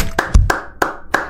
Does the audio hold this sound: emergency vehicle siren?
no